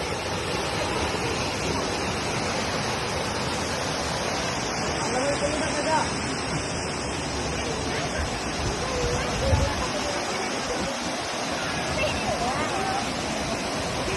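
The Chee waterfall roars as a steady, dense rush of falling water from close by. It fills the whole clip, and voices are heard faintly beneath it.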